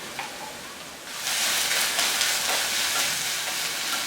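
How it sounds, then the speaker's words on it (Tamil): Onions sauté in hot oil for a South Indian stir-fry, a steady close sizzle that swells into a louder, hissing fry about a second in and holds there, with no talking. "ஒரே 1 நிமிஷம் மட்டும் எண்ணெயில் வதக்கி விட்டுக்கலாம்"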